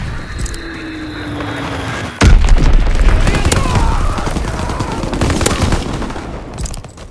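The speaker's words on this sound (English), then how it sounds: "Enemy bomb incoming. Get to cover." Bomb explosions and gunfire in the World War II shooter game Call of Duty WWII, a sharp boom followed by sustained rattling bursts of fire and rumbling that stay loud until near the end.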